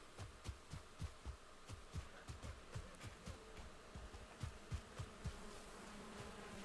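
Bees buzzing in the video game Valheim, a faint, steady hum under a soft, regular thumping pulse, low and close, with no voices over it.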